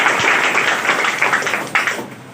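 An audience at a school prize distribution applauds a student who placed third, steady, dense clapping from many hands, fairly loud and close, fading slightly toward the end.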